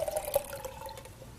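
Tomatoes soaked in tap water are poured into a container, giving a brief splashing, trickling rush of liquid at close range with no talking.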